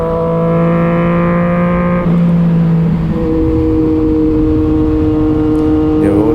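A Yamaha MT-09 motorcycle roars loudly close up while being ridden, its engine note rising and shifting in pitch through gear changes, with a rider talking over the engine.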